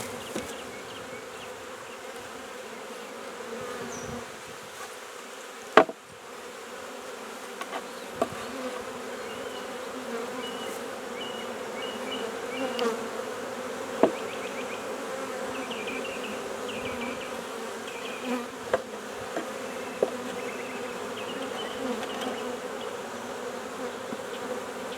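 Honeybees buzz steadily around a hive that may be losing its queen, a dense outdoor drone of many insects close by with a few sharp clicks and bumps breaking through.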